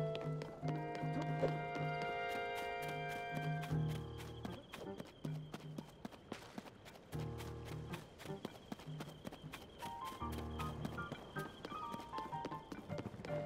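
Horse hooves clip-clopping in the video game The Legend of Zelda: Tears of the Kingdom, faint rhythmic steps beneath game music.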